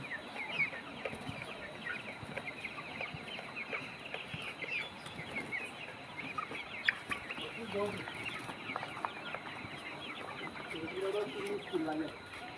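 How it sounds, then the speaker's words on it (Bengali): Hens cluck steadily in a busy group while eating feed on a poultry farm, with scattered bird calls and some faint voices mixed into the constant farmyard murmur. "দেখেন কাদ্য খেতেছে মুরগি"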